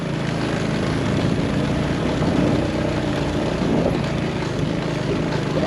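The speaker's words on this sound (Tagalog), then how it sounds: "Ating lakas ng motor na to, bay." A motorcycle engine labours up a steep uphill road, a steady loud droning rumble held throughout at close range.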